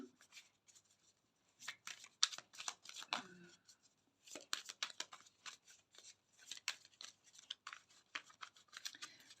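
Oracle cards being shuffled by hand during a water-sign reading, giving repeated soft papery riffles and slaps in irregular bursts, fairly quiet and close, with a brief murmur of voice partway through.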